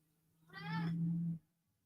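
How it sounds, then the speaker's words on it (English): A cat gives a single drawn-out meow close by, rising then holding for about a second before cutting off, with a low steady hum underneath and no talking. "Excuse my cat."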